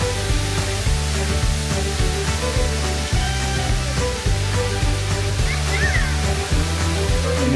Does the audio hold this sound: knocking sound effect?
no